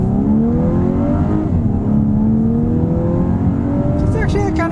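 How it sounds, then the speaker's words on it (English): A 2024 Volkswagen Atlas with its 2-liter turbocharged four-cylinder, driven in sport mode on a back road, accelerates steadily with a rising engine drone heard from inside the cabin, continuous and fairly loud throughout. "It's actually kind of a nice sounding 4-cylinder turbo engine."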